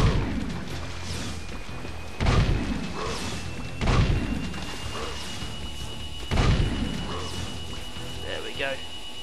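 Heavy blasts from the Peacemaker gun in the game Jak 2, several loud booming impacts spaced a couple of seconds apart over mechanical clanks and rumble, with talking throughout.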